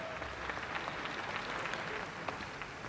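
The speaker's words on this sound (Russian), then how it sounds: "Ваши аплодисменты." Audience applause at an ice show, a dense, steady wash of clapping from a large crowd filling the arena, heard at a distance throughout.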